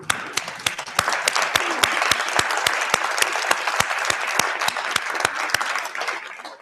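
Graduates at a university convocation stand and applaud their family and friends, a full crowd's steady clapping punctuated by sharp, regular nearby claps that sound like one person's hands, tapering off at the end.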